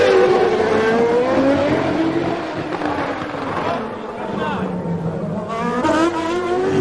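Onboard 1993 Formula 1 engine at Spa screams loudly, its pitch sweeping up and down through gear changes and throttle lifts, dominating the whole stretch with a constant roar.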